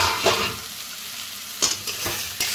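Pointed gourd and potato frying in a pan, a steady sizzle with several stirring scrapes of a spatula against the pan.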